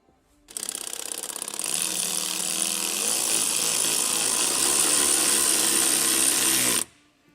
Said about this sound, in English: So I'm gonna get these screws in and I'll show you what that looks like.